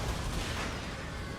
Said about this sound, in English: Ooh, we're taking cannon rounds back.